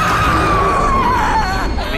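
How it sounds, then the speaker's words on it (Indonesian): A woman in the horror film The First Omen lets out a loud, sustained scream that slowly falls in pitch, filling the moment on its own without any talk. "Maggie menjerit sejadi-jadinya."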